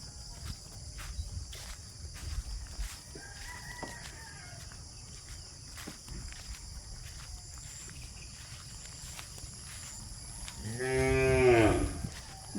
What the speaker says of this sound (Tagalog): Isa po ito tingog ang baka.